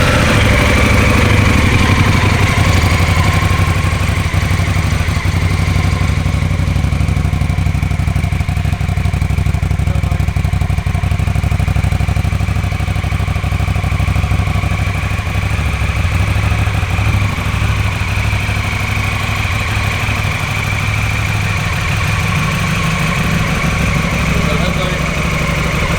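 A 2016 Honda Africa Twin CRF1000L motorcycle engine idles steadily nearby, a low, even rumble with light mechanical clatter that holds through the whole stretch.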